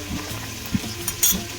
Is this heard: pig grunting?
no